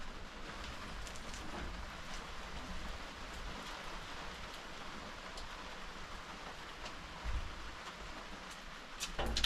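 Steady outdoor rain hiss falls continuously across the whole stretch at moderate level, with no voices and a slight rise near the end.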